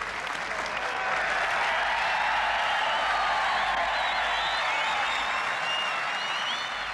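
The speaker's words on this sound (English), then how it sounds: "Great reception and huge crowds scampering round this 18th green" A large golf crowd around the 18th green applauds Seve Ballesteros at the 1979 Open at Royal Lytham and St Annes, dense sustained clapping that swells quickly and stays loud, with a few cheers.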